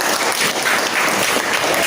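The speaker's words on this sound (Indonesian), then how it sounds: "tepuk tangan untuk kelompok 4" Classmates in a classroom applaud a student group after its presentation, a short, dense and fairly loud patter of clapping with no talk over it.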